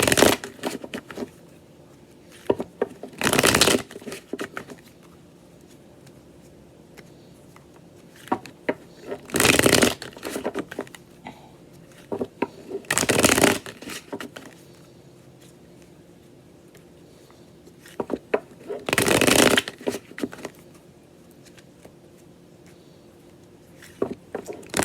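A tarot deck is shuffled in several brisk riffling bursts spread across the span, loud and close, with quiet handling noise between them.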